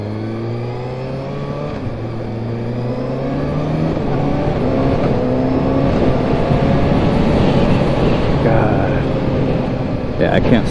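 A 2022 Kawasaki Ninja ZX6R 636 sportbike accelerating hard, its engine note climbing through the gears with quick-shifter upshifts that produce brief dips between rising pitch sweeps, loud and continuous from the rider's perspective with wind rush.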